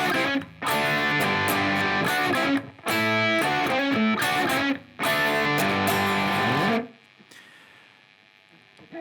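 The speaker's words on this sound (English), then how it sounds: "So the main riff of the song sounds like this." Electric guitar plays the main riff of a song, crunchy overdriven chord bursts in three loud phrases separated by short gaps, then ringing out into near silence.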